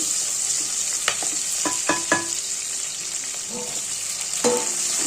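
Big onions frying in a pan for village-style mutton kulambu, a constant bright sizzle with a handful of spoon scrapes and taps against the metal, close and fairly loud, no voices.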